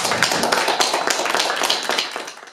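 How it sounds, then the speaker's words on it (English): Audience at a city council ward debate applauding, dense rapid clapping from a modest crowd, close and fairly loud, tapering slightly toward the end. "Give yourself a round of applause"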